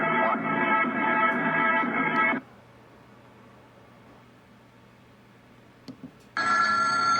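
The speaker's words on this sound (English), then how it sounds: "Phone keeps ringing around here." An old telephone bell rings from an airchecked radio recording played back through a 2019 Victrola 8-in-1 stereo system, loud hissy bursts at the start and end separated by a quiet stretch of background noise.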